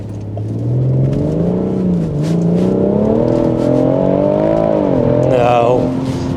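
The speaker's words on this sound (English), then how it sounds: "I'm going to launch it in second gear" A BMW M140i launches in second gear, its engine note climbing steadily and loud from close by, with a strained rise and brief dip before surging again; voices are faintly present.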